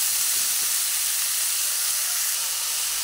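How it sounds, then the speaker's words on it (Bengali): Pumpkin pieces fry in a pan with a steady, loud hiss and sizzle that runs unbroken, with no pauses and no voices. "ঢেলে দিয়ে কুমড়োগুলোকে অল্প ভেজে নেব"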